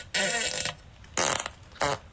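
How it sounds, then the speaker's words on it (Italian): Three short fart sound effects played one after another during a live stream, each a loud, raspy burst lasting under a second and separated by brief pauses. "Grazie per la scoreggia."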